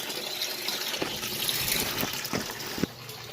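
Water gushes and splashes steadily into a newly built pool pond, a soft continuous pouring sound with a few small splashy bumps, fairly faint and outdoors, with no talking.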